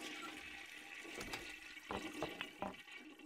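A toilet flushes with a steady rush of water close by, and gurgling splashes break through as the bowl drains.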